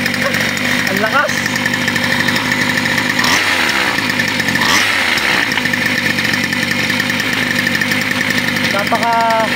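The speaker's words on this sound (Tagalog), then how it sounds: "Napaka aggressive ng makina." A small 63cc 1E48F two-stroke engine fitted to a reed-valve pocket bike runs loud and steady at close range, revving aggressively with sharp rises in pitch, while people talk over it.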